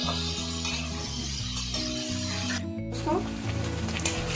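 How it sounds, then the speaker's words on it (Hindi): Paneer cubes fry in hot oil over a low flame for matar paneer, giving a steady, close sizzle with stirring and light scraping of a pan throughout, no talk. "अब हम इसमें सारा पनीर एक साथ ऐड कर देंगे और हल्के आंच से बिल्कुल।"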